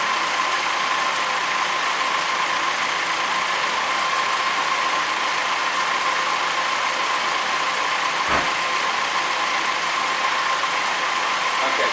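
Car engine idling steadily with a battery cable recently repaired, a constant close hum with a faint tonal whine throughout and no variation, no speech.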